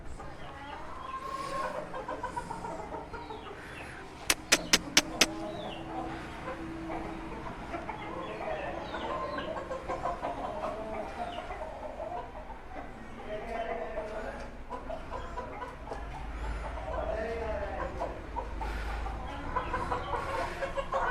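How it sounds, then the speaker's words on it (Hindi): A favourite pet rooster clucking softly in its coop, low repeated clucks and murmurs across the scene, with a few sharp metallic clicks early on and someone talking nearby. "ये मुर्गा आपको दिखाता हूँ गाइस, ये मेरा फेवरेट है"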